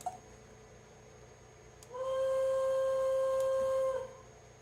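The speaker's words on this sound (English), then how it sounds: "Alright, Hancock air whistle." Hancock air whistle from a model Union Pacific CA-9 caboose sound system, one sustained steady whistle tone lasting about two seconds, clear and alone over low hiss.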